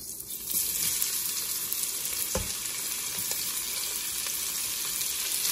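Chopped vegetables sauteing in bacon grease in a multi-layer-bottom Duxtop 5.7-quart stainless stock pot, a steady broadband sizzle holding throughout with a few faint clicks and stirring sounds, no talk.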